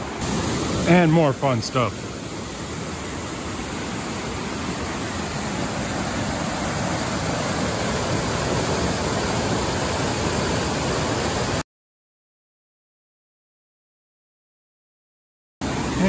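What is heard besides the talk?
river rapids rushing water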